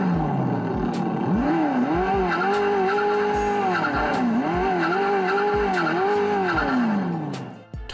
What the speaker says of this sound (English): take a good look and listen to this modified Ford Ranger